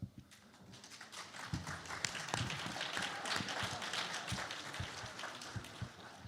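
Audience applause at an anime convention manga industry panel, a dense steady patter of many hands clapping that swells and holds for several seconds, with scattered sharper claps and faint voices beneath.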